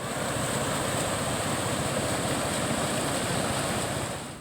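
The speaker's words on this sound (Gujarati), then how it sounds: "ભાદર ડેમના 15 દરવાજા ખોલવામાં આવતા ભાદર નદી 2 કાંઠે વહેતી થઈ" The Bhadar river, in flood after heavy rain with fifteen dam gates open, gives a constant loud broadband roar of rushing water with no breaks and no voices.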